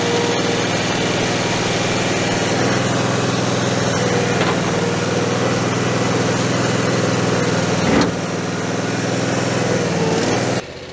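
An engine-driven tree spade unit being raised and tilted, a steady high-pitched small engine drone with a hydraulic strain, holding even for about ten seconds before dropping slightly at the end.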